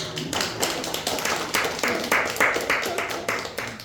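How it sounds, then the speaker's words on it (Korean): Church congregation at a Sunday worship service breaking into applause, a dense roomful of hand claps rising and rolling steadily for a few seconds with a slight room echo. "얼마나 감사한 박수 한번"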